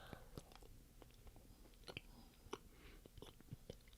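Soft, moist chewing of chewy Polish gingerbread-like snacks, close and quiet, with scattered small clicks and smacks spread irregularly across a few seconds of near silence.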